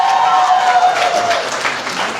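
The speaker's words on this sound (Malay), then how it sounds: "Berikan tepukan gemuruh kesemuanya" A crowd at a Malaysian political rally gives a short burst of thunderous applause, steady and close for about two seconds, with faint crowd noise mixed in.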